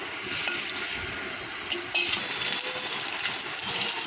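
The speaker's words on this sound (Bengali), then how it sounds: "আলুগুলো হালকা ভেজে নেব বাদামি কালার করে।" Potato pieces frying lightly in a pan, heard as a steady, close hiss of sizzling oil with a few soft clatters, no one talking.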